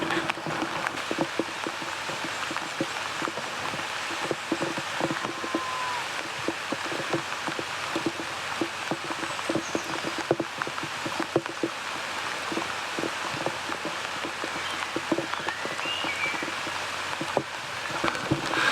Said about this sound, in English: Granted, it might be raining a bit.